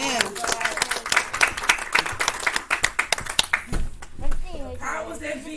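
A church congregation claps together for several seconds, a dense, lively round of hand claps with some voices and chatter mixed in, close and fairly loud.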